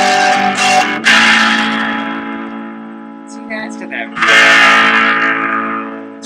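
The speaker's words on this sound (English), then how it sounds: "Fab distortion pedal from Dan Electro that actually got incredible reviews" Electric guitar, likely a semi-hollow, run through a Danelectro Fab distortion pedal during a home recording session. Two loud, fuzzy chords ring out and slowly decay, with a few quieter picked notes between them.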